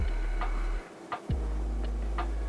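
Cricut cutting machine cutting stickers, a steady low motor hum with light rhythmic ticking blade strokes, briefly pausing before resuming, close and alone.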